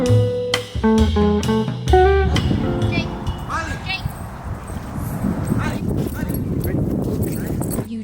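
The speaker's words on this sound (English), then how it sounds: "You just witnessed a off-leash dog charging us" An off-leash dog charging at people barks in a quick burst of loud, close yaps, followed by scuffling, movement noise and excited human voices.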